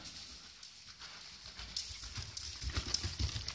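Hoofbeats from a horse cantering during a novice dressage test, quiet and somewhat distant at first, then growing into clearer rhythmic thuds in the second half.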